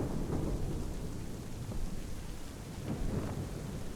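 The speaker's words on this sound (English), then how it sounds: "I'd say it's high time we find some cover from this storm" Rain pours steadily during a thunderstorm in the video game Assassin's Creed III, with rolling thunder rumbling through the constant hiss of the downpour and no voices heard.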